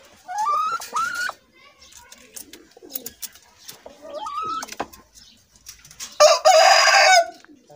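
A Shamo rooster crows loudly and close by, several rising crows with gaps between them, and a voice talks over part of the sound.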